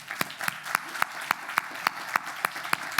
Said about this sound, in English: I'd like to give a round of applause for everybody who attended